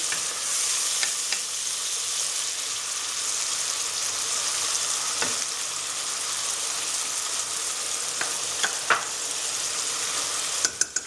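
Chopped onion and garlic fry in a pan, giving a steady, close sizzle that holds for the whole stretch, with a few sharp pops and a clink of utensils near the end and no talking.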